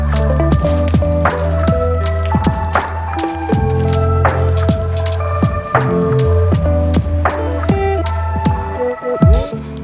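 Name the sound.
sponge scrubbing bike frame and wheels with hot soapy water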